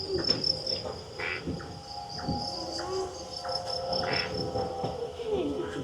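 A dense chorus of crickets chirping steadily in the background at night in a Singapore wildlife reserve, with occasional soft rustles and faint animal sounds layered over it.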